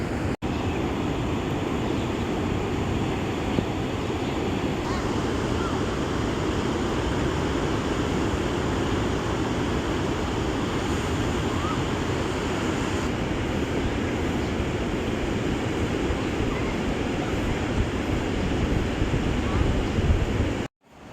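Ocean waves at Patar Beach in Bolinao, Pangasinan, during low tide under overcast skies, a continuous rushing wash of surf mixed with wind buffeting the microphone, steady throughout.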